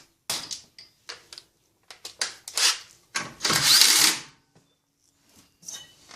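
Strut and knuckle bolts on a 1996-2004 Nissan Pathfinder are tightened during front axle replacement: short bursts of power-tool whirring, several quick spurts, then one longer run, with quiet gaps between.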